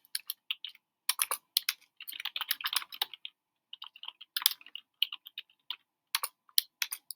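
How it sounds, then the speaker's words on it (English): Rapid bursts of typing on a computer keyboard, close and crisp, with irregular clusters of keystrokes separated by short pauses, alone without any talk. "And I'm just typing it here."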